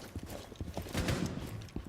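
Footsteps in the video game Rainbow Six Siege, a rapid series of close, thudding steps that builds into a denser scuffling patch midway, heard alone with no talk.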